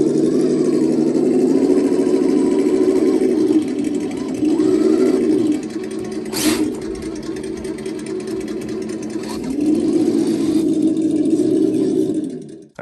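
Small Redcat Gen 8 V2 RC truck motor grinding steadily through a hill climb, a busy mid-pitched whine that dips and surges in loudness, with brief spoken voices mixed in.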